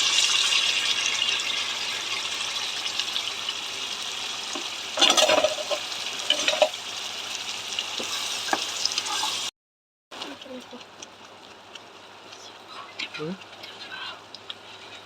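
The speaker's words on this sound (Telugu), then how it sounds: "ఆనియన్స్ పచ్చిమిర్చి మన టమాటా వేసుకున్నాం కదా వేయించుకున్నాం ఆనియన్ ఉడకబెట్టుకున్నాం కదా ఆ మిశ్రమాన్ని ఇలా కలిపేస్తాం" A fried mixture of onion, green chilli and tomato is stirred in a pan with steady sizzling and scraping, close and constant, with a brief break in the sound partway through.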